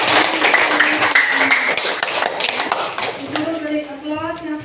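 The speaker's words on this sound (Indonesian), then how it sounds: "tepuk tangan untuk sekolah kita semuanya" A classroom of primary school pupils claps together, a busy crackling patter that fills the first few seconds before it thins out as a teacher's voice takes over.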